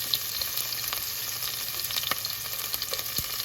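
Urad dal and chopped green chillies frying in hot oil for Bombay chutney, a steady close crackling sizzle with small pops, alone without talk.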